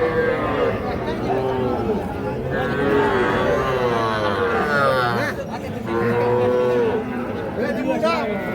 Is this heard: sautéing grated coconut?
no